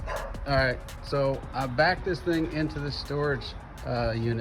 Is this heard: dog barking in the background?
yes